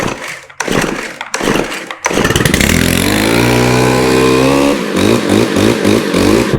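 A Stihl FS131R four-stroke weed eater engine runs at half choke, first sputtering through a few rough bursts, then settling into a loud, steady, rising drone before easing into a rhythmic, pulsing lower idle.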